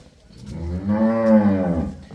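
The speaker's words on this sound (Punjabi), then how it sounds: "ਨੀਲੀ ਦੀ ਮੱਝ ਆ ਜਿਹੜੀ ਆ" A single long, deep lowing call from a Nili-Ravi water buffalo swells up close and loud, then tapers off after about a second and a half.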